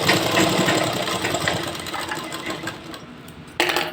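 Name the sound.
sewing machine stitching elastic on ladies pant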